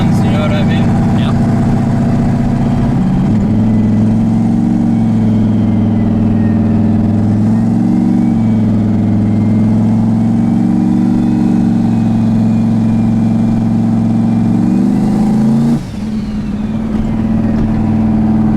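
A turbocharged LSX-swapped Chevrolet Colorado engine drones steadily while driving, a loud close cabin hum that rises and falls slightly with throttle, with people talking over it throughout.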